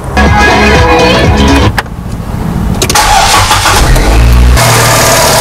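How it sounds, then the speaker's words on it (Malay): A car engine cranks with a rapid whirring starter, catches and fires up, then settles into a loud, steady idle close to the microphone, with a brief rev near the end. "sekarang saya akan hidupkan kereta ni"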